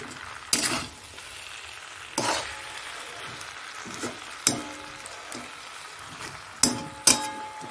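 Tomatoes with salt, turmeric and green chillies frying in a pan for a Bengali fish and potato curry, a low steady sizzle broken by several sharp spattering bursts, close, with no talking.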